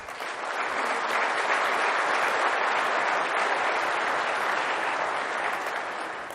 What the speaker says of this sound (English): So just give them a round of applause